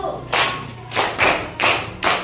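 A fourth-grade elementary classroom claps out a rhythmic pattern together: five loud, crisp bursts of group clapping in a short, uneven beat, close and distinct with brief gaps between.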